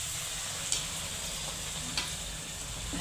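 Puris deep-frying in hot oil for a Raksha Bandhan puri bhaji thali give a steady, close sizzle and bubbling hiss, with a couple of faint clinks from a utensil.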